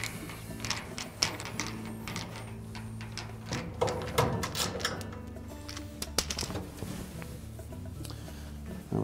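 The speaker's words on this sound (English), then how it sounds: "we'll remove 4 5/16 hex head screws that secure the bulkhead to the cabinet" Power driver whirring in short bursts as 5/16 hex head screws come out of the bulkhead of a Whirlpool dryer cabinet, with rattling and clicks between the runs.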